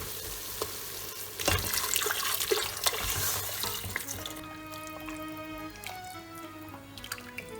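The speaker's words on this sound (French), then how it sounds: "On va pouvoir ajouter l'eau." Water pours into a pot of simmering harira soup with tomatoes, a steady splashing rush over the first few seconds that fades into quieter bubbling and faint drips, heard close with no talking.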